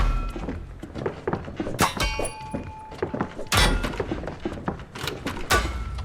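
Fire axe striking armored enemies in the video game Project Silverfish, a series of dull, heavy thunks and impacts in quick irregular succession, with clanging game effects layered between hits.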